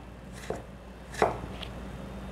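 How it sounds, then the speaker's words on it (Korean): A knife dicing raw, unpeeled potato into cubes: two sharp chops on a board, close and quiet, with no talking. "안 삶은 껍데기 감자를 이렇게 네모나게 깍둑썰기를 하시는데요"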